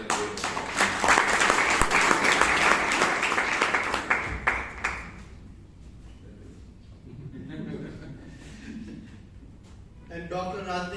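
Dense, loud audience applause at a Bangalore Toastmasters club meeting for a speaker, a steady roar of clapping for about five seconds that cuts off, followed by quiet room tone and a voice starting to speak.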